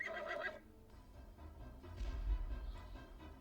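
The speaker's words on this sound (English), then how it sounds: "here we have a nightmare, which is also another mount that you can have" A nightmare mount in Ultima Online gives a short, shrill whinny at the start, followed by low rumbling snorts and hoof-like thuds, fairly close and alone.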